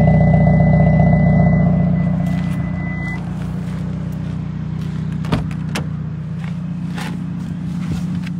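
A 2022 Hyundai Elantra N idles with a steady low engine drone, loud and near at first, then easing slightly, with a few faint clicks and knocks around it.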